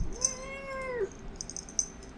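A pet cat lets out one clear, drawn-out meow that trails off after about a second, close and fairly loud in a quiet room with no talking.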